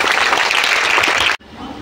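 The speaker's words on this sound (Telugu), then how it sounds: "You can give a big hand clap for your self." Loud, dense applause from an audience clapping their hands, a continuous roar of many hands that cuts off abruptly, leaving a quieter room tone afterward.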